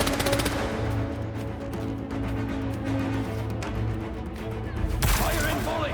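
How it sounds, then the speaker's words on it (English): Rapid automatic gunfire rattles in a continuous volley during combat in Marvel's Spider-Man 2. Dense bursts keep a heavy low rumble underneath, and a sharper boom lands near the end. "Fire and volley!"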